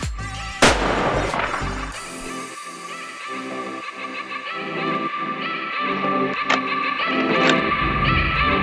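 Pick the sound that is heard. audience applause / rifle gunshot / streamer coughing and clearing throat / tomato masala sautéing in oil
rifle gunshot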